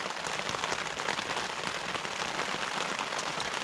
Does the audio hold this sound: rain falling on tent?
yes